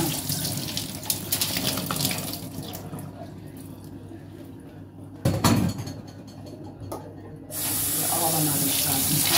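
Water runs from a kitchen tap, then is poured into a pot of soaked beans. A steady gush is followed by a quieter stretch and a thump, then heavier pouring near the end, close by with no talk.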